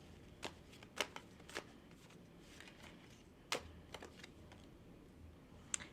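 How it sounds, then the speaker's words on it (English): A small tarot card deck being shuffled: sharp riffling bursts at irregular intervals, close and moderately loud, with no voices. "this is the first time that I'm able to shuffle like the way the other cool tarot readers shuffle"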